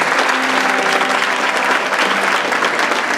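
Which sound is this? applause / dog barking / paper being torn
applause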